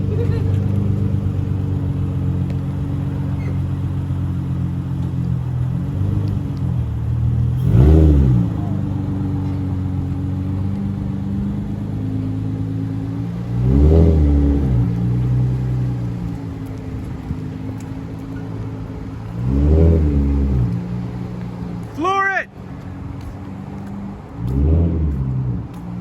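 A Nissan 370Z fitted with an aftermarket spoiler rumbles steadily nearby, its engine swelling in several short revving bursts over a constant low drone.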